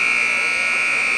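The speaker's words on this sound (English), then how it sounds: "There's the buzzer." A high school varsity basketball game buzzer sounds as one loud, steady electronic tone held for over a second, harsh and continuous, with faint gym noise beneath.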